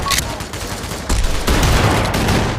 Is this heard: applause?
no